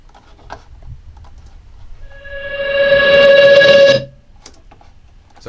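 A raw, unprocessed choppy synth riser: a thin buzzy tone with a strong pitched line fades in over about two seconds, grows louder and brighter, then cuts off sharply, leaving faint ticking background.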